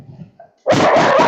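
A dog barks loudly and close by in a short, sustained burst, with faint whines and small yips before it.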